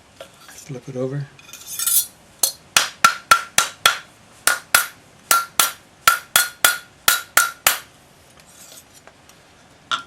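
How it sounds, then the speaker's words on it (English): A rawhide hammer taps a metal bangle around a bracelet mandrel in a fast, even run of crisp, ringing blows, after a short burst of a voice and scraping at the start. "Round it up on your bracelet mandrel with your rawhide hammer."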